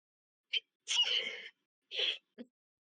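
A sneeze rings out alone against silence: a short sharp intake, then a loud burst followed by a smaller second burst and a faint trailing breath.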